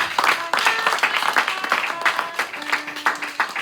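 A church congregation applauding, a dense burst of clapping that carries on steadily from start to finish.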